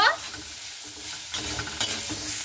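Cauliflower and carrot stir-fry in a hot pan with salt and turmeric, giving a continuous sizzle broken by scraping stirs that grow busier toward the end.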